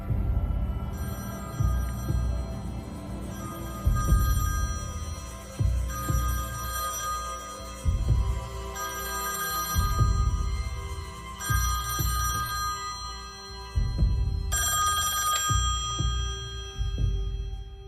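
A telephone rings early in the morning, sounding in repeated bursts of about a second each at a steady, regular rhythm, fairly loud and close with no voices.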